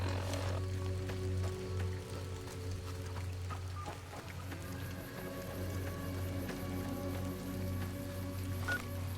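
Rain in Fallout: New Vegas in the Honest Hearts setting, a soft steady patter of drops mixed with a low constant hum and scattered faint ticks, quiet and continuous throughout.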